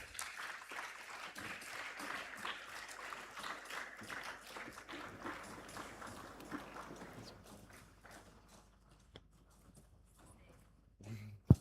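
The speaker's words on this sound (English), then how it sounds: "Clap for them." An audience at an innovation awards ceremony for a STEAM engine competition claps for the winning teams. The dense applause is fairly faint and tapers off toward the end, ending in a sharp knock.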